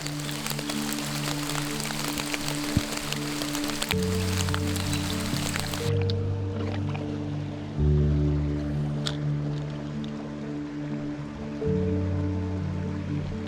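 Light rain patters beside a small trout stream over flowing water, with steady low hum-like tones running underneath and a noisier stretch at the start.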